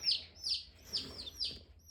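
Newly arrived baby chicks and ducklings from a hatchery chirp in a series of high, bright peeps that come in quick bursts, close and moderately loud over a faint low background hum.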